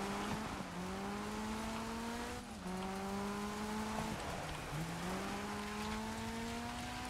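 A Ford rally car in the racing game DIRT 5 drives with a loud, sustained engine note that climbs through several gears, dipping at each shift, with a constant gritty roar of tires on a loose surface.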